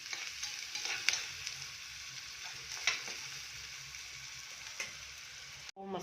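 Onions sizzle and fry in a pan for a rice-and-lentil dish, a steady soft crackle with occasional louder pops and scrapes, heard alone and fairly quiet.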